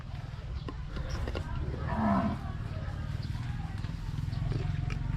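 Cattle at a livestock market in Wang Prachop, Tak, let out one drawn-out low moo mid-clip, fairly close, over steady crowd murmur and a voice talking.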